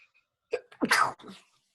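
A single sharp human sneeze, close and fairly loud, with a brief intake before the burst, in an otherwise quiet moment.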